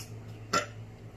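A single short, fairly loud burp from someone eating a mukbang meal of crab legs, rising out of a quiet room hum about halfway through.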